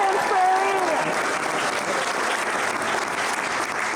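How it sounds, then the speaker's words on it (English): Theatre audience applause on opening night of a play, a broad steady wash of clapping, fairly close. A voice cheers briefly at the start. "we applaud you for helping us get here"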